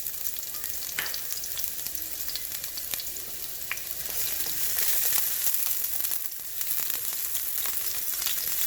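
Sliced onion sautés in hot oil in a pan, giving a steady, close sizzle and crackle throughout, with occasional faint stirring clicks and no talk.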